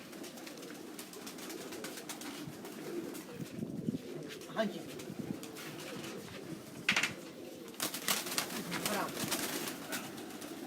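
Racing pigeons in a loft coo softly and repeatedly, close by, while someone speaks briefly in Hindi over a low hum of background noise.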